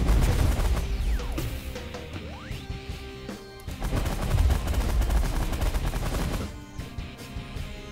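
Ship weapons fire continuously during a space battle in The Last Federation, making dense, loud rapid bursts and crashing impacts over a steady layer of game sound, with a short lull partway through.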